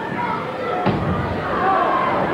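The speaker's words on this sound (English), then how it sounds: "Alter rope, Mike Power, and right down to the canvas." A wrestler, Mike Power, slams down onto the ring canvas in a packed arena, a single sharp thud under continuous commentary and crowd noise.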